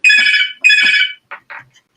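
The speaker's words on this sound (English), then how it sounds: "We never get away without a phone call or something going off." A phone rings in an office setting: two loud, electronic ring bursts followed by shorter, softer beeps, close by with no talking over it.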